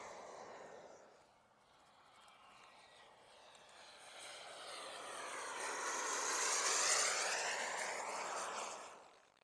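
A radio-controlled model airplane takes off, its engine and propeller whining in a rising and falling drone that swells louder as it passes closer, then fades slightly, heard alone without talk.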